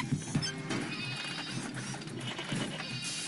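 Bleating goat in the video game Payday 2, a repeated wavering call heard loudly over background game music and ambience, with a couple of sharper bleats near the start and another toward the end.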